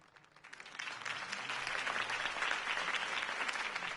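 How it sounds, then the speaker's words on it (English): A game crowd applauds after a campaign speech in the Telltale Batman game. The clapping swells in quickly, then holds as a dense, continuous ovation. "could have heard that applause"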